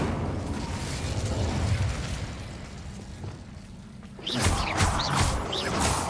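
An Incendio fire spell in Hogwarts Legacy, a roaring fiery rush that fades before a fresh burst of crackling flame and bright magical effects flares up near the end.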